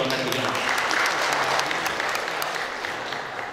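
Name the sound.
audience applause at a safety seminar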